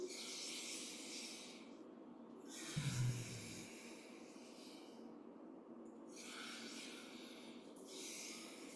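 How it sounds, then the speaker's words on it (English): Slow, soft breaths drawn through the nose during Ba Duan Jin qigong practice, heard as several long hissing airflows with pauses between them, quiet and close, with no talk. "breathing through the nose as we do this."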